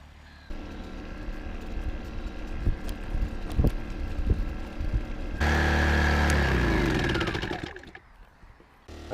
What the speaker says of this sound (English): After doing so, the generator went into idle mode.